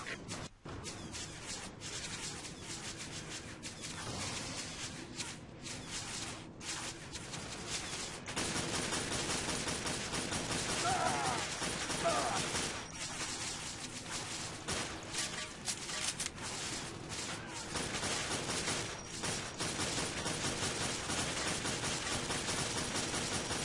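Rapid, sustained gunfire fills a Quake 4 firefight, with dense machine-gun bursts and blasts layered continuously and loud throughout, without pauses.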